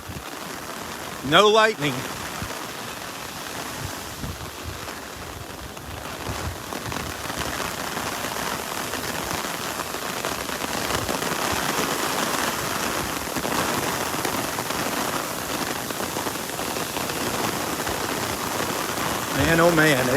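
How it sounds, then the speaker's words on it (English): Heavy tropical-storm rain pelts an umbrella on a beach in Naples, Florida, a dense, steady drumming hiss that builds over time, close and loud, with a voice speaking briefly at the start and end. "Yeah, there's the heavier rain. Woo! Listen to it, hitting the umbrella."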